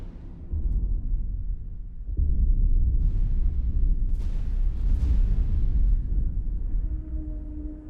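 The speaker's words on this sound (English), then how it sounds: "Explosion imminent." Spaceship blowing up in the space game X4: Foundations, a deep sustained rumbling boom that swells and lingers for several seconds, loud and low with brief crackling bursts in the middle.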